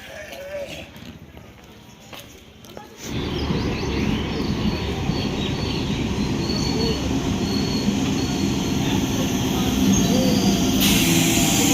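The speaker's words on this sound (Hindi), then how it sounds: "एक ट्रेन अभी पास की है" A train runs along railway tracks close by, a loud continuous rumble and rattle of wheels with a squealing edge, rising suddenly after a quieter opening where some talk is heard.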